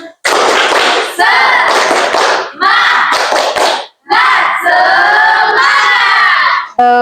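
Classroom of children doing a rhythmic spirit clap chant, loud bursts of shouting and clapping in several quick bouts separated by brief pauses, ending with a sharp final cry.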